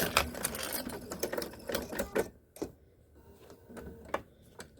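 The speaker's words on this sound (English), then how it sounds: "And I'm back stitching." A sewing machine running in bursts while back stitching a bag casing: rapid, close mechanical needle clatter for about two seconds, then sparser individual ticks and knocks.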